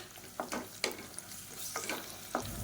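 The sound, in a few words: ginger garlic paste frying in a pan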